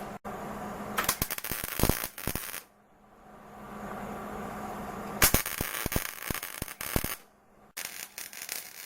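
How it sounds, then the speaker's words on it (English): Arc welding joins two steel angle pieces onto a can baler, first with tack spots and then a running weld: two loud stretches of sharp crackling and popping, separated by a quieter pause with a low hum. "So we'll get a couple of spots on this and then we'll finish the weld."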